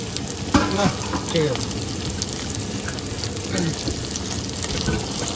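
Chicken pieces go into a hot, heavily spiced pan by a truck driver cooking at night, giving a steady close sizzle and frying hiss that runs throughout, with someone speaking briefly over it.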